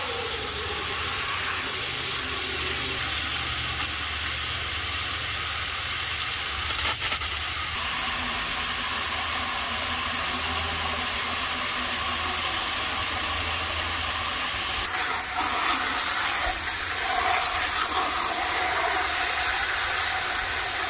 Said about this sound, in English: we're gonna go ahead and fill up all three